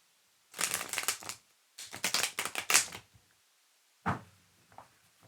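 A tarot card deck being shuffled up close: two long riffling bursts of rapid papery flutters, then a brief final shuffle and a soft tap, with no talking.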